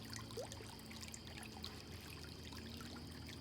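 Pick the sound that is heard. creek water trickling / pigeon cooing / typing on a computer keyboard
creek water trickling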